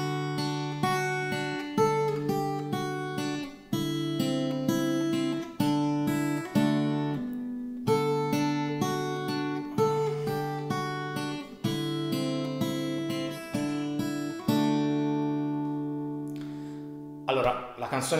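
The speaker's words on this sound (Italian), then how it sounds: "l'introduzione che sentiamo nell'originale insomma non va tralasciata, quindi l'ho riarrangiata per chitarra e fa così" Fingerpicked acoustic guitar playing an arranged song intro, with clear plucked notes and arpeggiated chords in a steady rhythm, close and alone, ending on a strummed chord that rings out.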